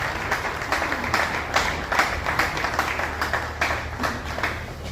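An audience at an NGO launch event claps steadily, a dense patter of many hands kept up for several seconds, fairly near and without talk over it.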